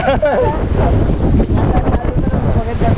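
Strong wind buffets the microphone while choppy waves slap against a boat on a ride home from a boat tour, loud and constant throughout with no break.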